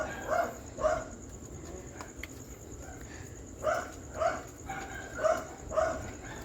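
Several puppies give short, clustered yips and barks in bursts while being fed, fairly close, with a steady insect-like high hum in the background and no talk.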